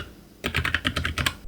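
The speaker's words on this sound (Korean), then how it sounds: "이렇게 타이핑을 하는 효과를 촬영을 하면 좋습니다" Rapid keystrokes on a computer keyboard, close to the mic, starting abruptly after a short quiet stretch and continuing in an uneven clatter of about a dozen distinct clicks.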